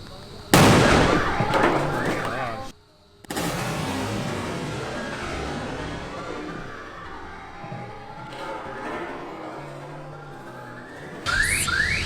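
A staged car explosion for a movie shoot erupts with a loud, sudden blast, then a long rumbling roar and crackle that fades gradually, followed by a burst of distant noise at the end.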